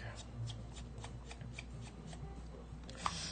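Hands working at a Samsung SF 250 film camera body, producing a steady run of soft rubbing, scraping and small plastic clicks up close, with one sharper snap near the end.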